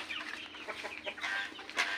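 A chicken clucks in short repeated bursts close by, with a louder squawk near the end, over a faint outdoor background.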